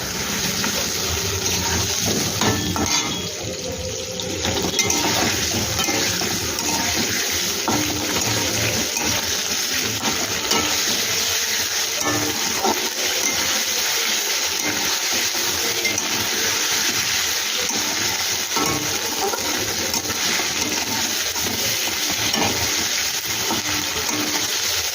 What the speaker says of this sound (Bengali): আদাটা একটু ভেজে নিই, তাহলে কাঁচা গন্ধটা চলে যাবে।